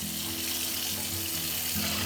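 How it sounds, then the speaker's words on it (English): Hot water runs steadily from a kitchen tap into a bowl, a continuous broad rushing splash with a low hum beneath, close and unbroken throughout. "I'm gonna get some real hot water going in here."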